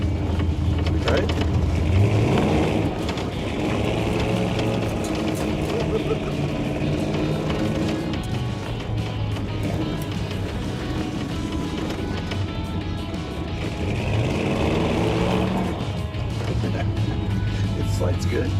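Raunchero car driving over a bumpy racetrack, its engine droning steadily and close throughout with the rumble of the rough surface, while people talk over it.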